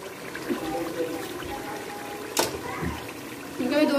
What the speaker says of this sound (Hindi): मैं इसके अंदर पानी ऐड करूंगी